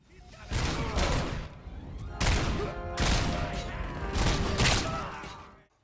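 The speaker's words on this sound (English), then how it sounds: "The guns are potent, explosions rattle your ears" Loud, dense bursts of gunfire and explosive blasts from the PS5 game RoboCop: Rogue City, in three heavy volleys separated by brief lulls, with faint voices mixed underneath.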